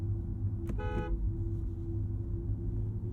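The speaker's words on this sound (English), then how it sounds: "And the world famous horn test." Audi RS e-Tron GT horn sounds once in a short, bright toot over a steady low cabin hum, recorded from inside the car.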